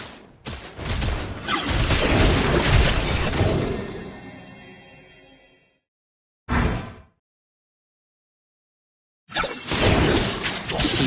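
A turret being destroyed in the mobile battle game Mobile Legends: Bang Bang, heard as a loud shattering crash with rumbling debris that trails off into silence, followed by a short burst and then more loud game noise.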